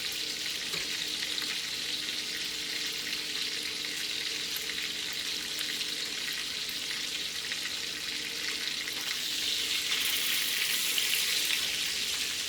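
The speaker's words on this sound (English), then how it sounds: "what I'm doing is I'm just searing these pork chops" Pork chops searing in a hot pan give a steady, even sizzle that holds for the whole stretch with no talking, rising slightly toward the end.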